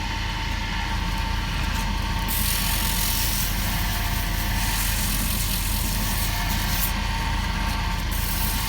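A small wood lathe whirs steadily as a pen blank is sanded through successive grits, a constant loud mechanical drone with a brighter hiss rising and falling as the sandpaper touches the spinning wood.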